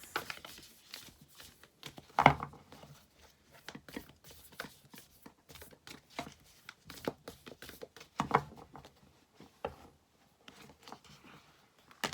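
Soft, irregular papery riffling and tapping of tarot cards being shuffled close by, quiet overall with a couple of sharper slaps.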